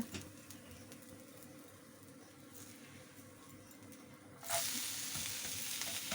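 Ragi flour dosa batter topped with onion, green chilli and ginger pieces fries on a hot pan, a quiet steady sizzle that suddenly swells into a loud, bright hiss partway through. No one speaks.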